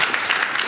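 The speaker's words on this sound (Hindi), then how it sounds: "एक बार जोरदार तालियों से उनका स्वागत करना चाहेंगे" Audience applause welcoming a guest artist at a university Hindi department event, a dense, steady wash of clapping filling the whole short moment at moderate loudness.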